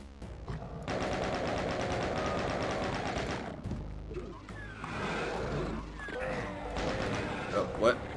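Rapid gunfire in a video game rattles out as a sustained burst, followed by scattered game effects and shots, with people talking over it.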